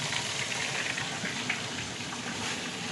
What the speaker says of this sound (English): Now we are frying the fish.